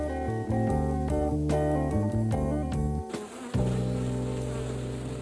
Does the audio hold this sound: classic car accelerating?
no